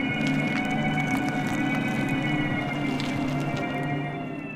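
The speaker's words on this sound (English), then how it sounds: "There is a fake sound that the vehicle makes at low speeds as required by law to alert pedestrians and cyclists." A 2021 Volkswagen ID.4 electric SUV emits its synthetic low-speed pedestrian warning sound, a steady, video-game-like tonal hum with layered pitches, fairly close and without speech.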